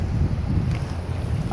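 Steady wind buffets the microphone outdoors during a day hike, a continuous low roar and rumble with no breaks and no other sounds over it.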